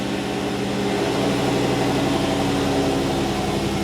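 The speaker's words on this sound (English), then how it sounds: "We're gonna turn the ignition off and then crank the engine again to see and read codes again." A 2014 Ford E350 van engine running, a steady loud rumbling idle heard close up with no talk.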